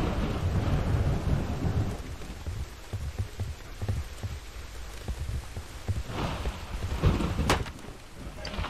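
Rain and thunder in a video game: a steady wash of rainfall with low rolling rumbles, louder in the first two seconds, and a sharper crack near the end.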